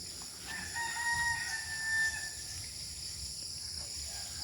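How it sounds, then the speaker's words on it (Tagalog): A rooster crows once, faint and somewhat distant, over a quiet rural background with a high steady insect drone and a few soft bird sounds. "Ayun ang mga birds."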